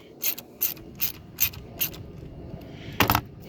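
A 10mm socket wrench ratchets in short, evenly spaced clicking bursts, about six separate pulls, while loosening the battery terminal on a Tesla Model 3, close and crisp in a quiet space.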